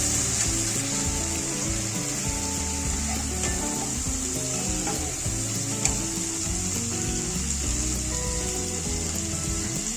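Cabbage with ginger-garlic paste hisses and sizzles loudly in a pan while being stirred. The frying noise is dense and unbroken, close up, with faint utensil scrapes and no voices.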